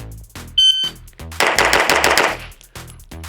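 Rapid gunshots from an Infinity 2011 pistol fired at a range, a fast string of sharp, loud cracks in quick bursts, with a brief electronic timer beep early on.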